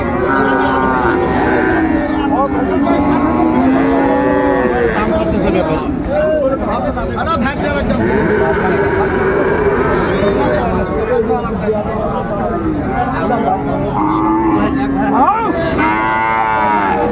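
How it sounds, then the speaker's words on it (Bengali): Friesian bull calves moo repeatedly at a busy cattle market in Ranigonj, Dinajpur, their loud overlapping calls continuous throughout over a constant crowd murmur. "ষাঁড় বাচ্চা আমরা দেখছিলাম।"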